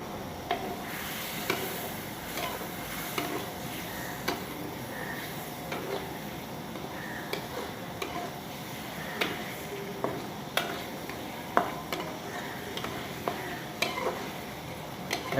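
Baila fish curry cooks in a pan with water added, a soft steady simmer and sizzle broken by frequent light clinks and scrapes of a utensil stirring against the pan.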